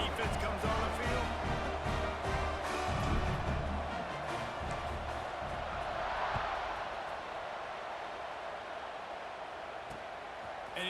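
A football stadium crowd roars in a dense, continuous wash of cheering and noise, with a commentator's voice talking over it.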